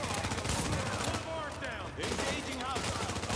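Machine gun fire in The Division, rapid continuous bursts of automatic shots with a short pause in the middle, voices talking over the gunfire.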